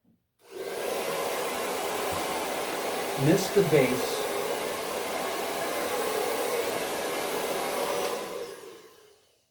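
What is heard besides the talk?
blow dryer running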